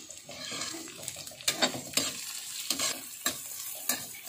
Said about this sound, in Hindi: हम जितनी अच्छे से फ्राई करेंगे ऑनियन को खाने का टेस्ट उतना ही बढ़ जाएगा